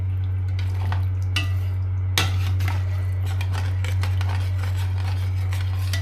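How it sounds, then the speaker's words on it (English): Gravy being stirred in a cast iron pot for lamb's liver with bacon and onion: a metal utensil scrapes and clinks against the pot bottom in repeated strokes, with one sharper knock, over a constant low hum and faint sizzling. "So just stir it around like that. That's going to lift all that from the bottom. This is a cast iron pot"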